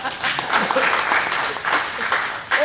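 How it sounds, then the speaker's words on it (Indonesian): A crowd applauds at a Batak comedy show, a full continuous burst of clapping from many people, fairly loud and close, with a voice faintly mixed in. "Ya, tepuk tangan dulu"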